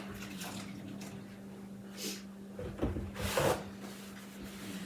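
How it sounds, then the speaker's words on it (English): Hands are washed under a running kitchen tap while cooking, a steady soft stream of water with brief splashing and rubbing bursts, close and fairly quiet. "Gotta wash my hands."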